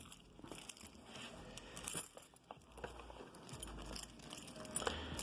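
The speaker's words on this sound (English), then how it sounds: "Get my damn keys." Keys jangle and clink as they are grabbed and rummaged through during a phone unboxing, a run of close, light metallic rattles and crinkles with no speech.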